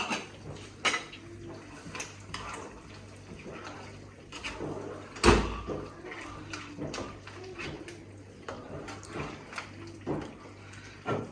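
Yogurt and masala are stirred together in a handi for mutton karahi, with scattered spoon clinks and scrapes against the pot and one sharper knock partway through, all fairly quiet.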